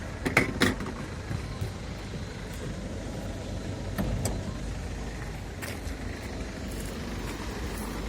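A small electric motor on a Mercedes Sprinter truck whirs as it remotely raises the side panel. The quiet, continuous hum comes with a few sharp clicks and knocks near the start and middle.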